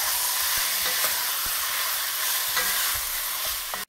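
Beef pieces sear over high heat in a hot pot for stew, making a loud, steady sizzle. Repeated stirring knocks and scrapes break through it, and no one talks.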